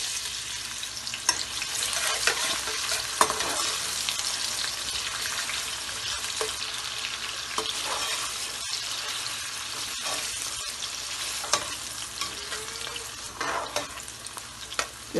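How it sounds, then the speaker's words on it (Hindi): Onions frying in oil in a home kitchen pan for Lahori murgh cholay, giving a steady broadband sizzle with a few spoon scrapes and clinks throughout, close and moderately loud, with no talking. "प्याज डालेंगे।"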